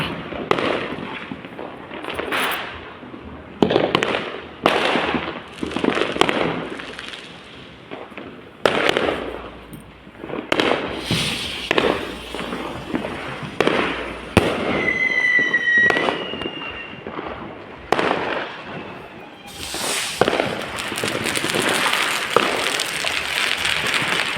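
Firecrackers bursting outdoors during a family outing: a long run of loud, sharp bangs and crackles, some in quick clusters and others spaced apart, with a whistling rocket-like tone partway through and a denser crackling barrage near the end.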